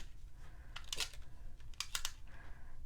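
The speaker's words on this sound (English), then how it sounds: "I'm just gonna add some adhesive with the tape runner" A tape runner lays adhesive onto cardstock for a party card, giving a few quick clicky, crinkling bursts in short clusters, close and fairly faint, with no talking.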